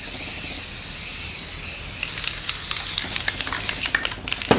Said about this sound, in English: this spray paint that I'm applying on top